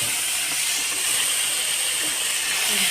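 Chopped tomatoes sauté in hot oil in a pan, giving a steady, loud, broadband sizzle and hiss that continues without pause. No one speaks.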